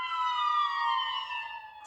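Memorial sirens wail at an outdoor ceremony, a steady rising and falling electronic tone with layered harmonics, loud and continuous without speech over it.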